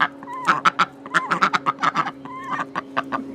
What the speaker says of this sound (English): That one duck was getting upset at the chicken.